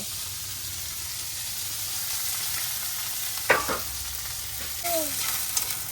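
Chopped onion, garlic and green chili sizzle in hot oil as a tempering for greens, a steady soft frying hiss with a few brief utensil clinks and scrapes near the end.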